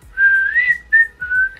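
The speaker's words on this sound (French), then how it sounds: "C'est pas un sifflement magnifique mais c'est un sifflement" A person whistles three short, clear notes, the first one sustained and gently rising, then two brief ones after short pauses, close and fairly loud.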